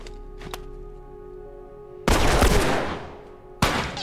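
Gunfire in the video game The Last of Us Remastered: two loud, sharp blasts with long decaying tails, the first ringing out for over a second, over a low steady background hum.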